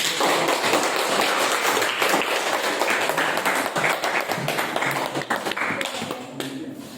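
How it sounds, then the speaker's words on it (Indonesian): A classroom audience claps for a presenting student group: dense, sustained applause of many hands for several seconds, tapering slightly toward the end. "Baiklah, tepuk tangan untuk kelompok."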